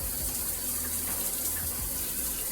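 Shower water runs steadily as shampoo is rinsed out of sisterlocks, a continuous close splashing hiss with no pauses.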